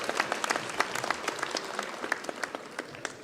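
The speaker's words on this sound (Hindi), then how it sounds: "तालियां बजा के अभिनंदन कीजिए।" An audience at a state award ceremony in Bhopal gives guests a welcoming round of applause, a quiet, steady patter of many hands clapping at some distance throughout.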